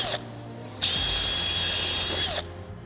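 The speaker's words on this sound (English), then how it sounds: "We'll use our 5mm rivet drill here to remove the 5mm rivets." A power drill boring out 5mm rivets on a caravan awning roller, running in a single steady high whine for about a second and a half after idling hum before and after.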